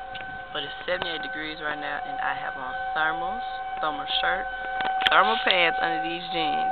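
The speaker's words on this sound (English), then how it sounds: "I know you can hear the sirens in the background." Outdoor civil defense warning sirens wail steadily in the background ahead of a storm, heard as a sustained tone under a person talking close by.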